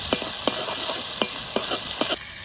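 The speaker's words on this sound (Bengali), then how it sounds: "এবার পেঁয়াজ বাটা দিয়ে দেবো এই তেলের মাঝখানে।" Onion paste sizzling in hot oil with potatoes in a home kitchen, a steady close frying hiss broken by several sharp scrape-like clicks of stirring.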